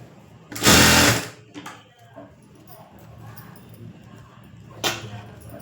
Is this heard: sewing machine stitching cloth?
yes